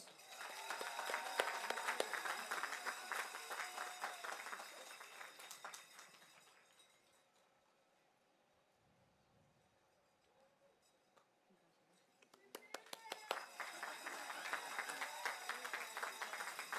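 Convocation audience applauding at a university graduation ceremony, loud sustained clapping that fades to near quiet midway, then swells again into a dense crowd ovation.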